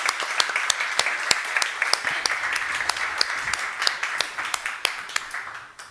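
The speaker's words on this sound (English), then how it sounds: "A warm applause" An audience at a panel discussion on European civilian and military preparedness in Almedalen gives a warm round of applause: dense, steady clapping from many hands that holds throughout and thins slightly toward the end.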